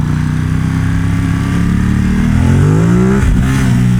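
Ducati XDiavel motorcycle engine revving hard under a wheelie, a steady loud drone that climbs in pitch near the end and briefly dips, with continuous wind rush and no talking.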